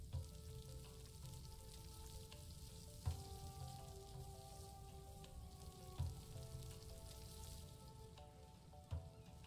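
Crab meat roasting on a spit over an open fire in Stranded Deep gives a faint, steady sizzle and crackle, with soft periodic thumps roughly every three seconds and a sustained tonal ambient drone beneath.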